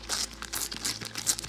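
Close, quiet crinkling and tearing of a Panini sticker packet for the 2021 Raya and the Last Dragon album, a quick run of crisp foil rustles and rips with no talk.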